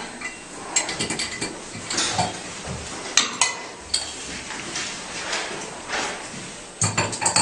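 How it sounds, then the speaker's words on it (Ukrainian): Small clicks, rattles and scraping clatter sound up close as a sterile filter is set on a frit and clamped in a water-analysis lab, with irregular mechanical knocks and no talk. "Ставимо ми його на фріту, закріпляємо."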